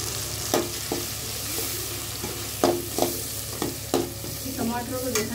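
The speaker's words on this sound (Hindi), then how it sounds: "टमाटरों को देखा है अच्छी तरीके से फ्राई कर लें" Tomatoes with salt and turmeric fry in a pan with a constant sizzle, while frequent sharp scrapes and knocks of a spoon stir them at close range.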